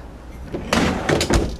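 A short sliding rumble followed by a couple of soft thuds, a freezer slide drawer in a motor home refrigerator pulled along its rails nearby.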